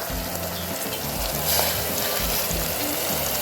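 Onions, capsicum and garlic sizzle loudly in a pan, a dense steady hiss with soft stirring underneath, heard close up without talk.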